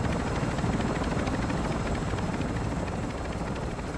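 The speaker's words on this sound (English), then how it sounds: "Helo holding at expo point." A helicopter in Call of Duty Modern Warfare III sets down for an extraction, its rotor a loud, steady, dense roar that fills the whole stretch without letting up.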